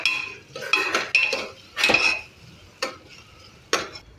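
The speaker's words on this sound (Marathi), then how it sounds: "सर्व परतून घ्यायचं आहे" A utensil clinks and scrapes against a pan in short separated bursts while grated ginger and crushed garlic are sautéed for misal, with only faint sizzling underneath.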